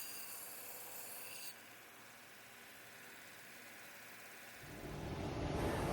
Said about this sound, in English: I'm doing my final passes on the conditioning belt on the bevels